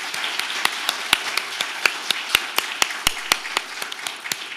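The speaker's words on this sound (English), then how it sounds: "let's have a round of applause for our panelists and our ASL interpreters" A small group claps for meeting panelists and ASL interpreters: sharp, distinct, fairly sparse hand claps at an uneven rhythm over a low room hum, with no one speaking.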